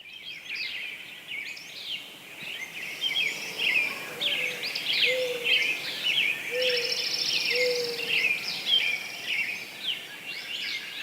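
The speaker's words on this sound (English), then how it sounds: "What we've just been hearing is just a tiny little piece of what's called the dawn chorus." Many birds singing at once in a dense, continuous dawn chorus of chirps and trills, steady and moderately loud with no talking.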